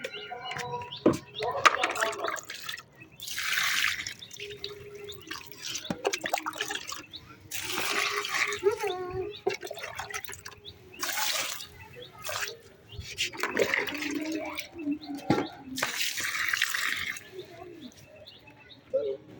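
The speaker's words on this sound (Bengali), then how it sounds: "জল দিয়ে দিচ্ছি।" Water poured from a container onto garden plants on a dry day comes in several splashing bursts, with birds chirping nearby and a voice talking now and then.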